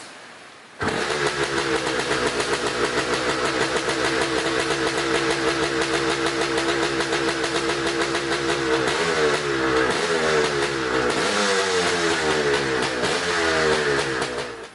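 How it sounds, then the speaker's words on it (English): A 1969 CZ 360 motorcycle engine, freshly tuned up, fires and settles into a steady, loud, close idle with slight revving variations near the end, running alone without talk for about fourteen seconds. "we got the tune-up all done on the 69 CZ 360, and we're going to see how it runs"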